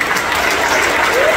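Audience applause at a film launch event in Jaffna, a dense, steady clapping that fills the short moment at close range without a break, with a hint of a voice or crowd murmur underneath.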